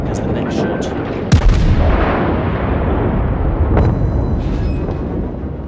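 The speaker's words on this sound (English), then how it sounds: "So we can get the shots in through the superstructure." Battleship main guns firing in World of Warships, on the German König Albert at tier one, with a loud booming salvo over a constant rumbling battle ambience and a second, softer blast later.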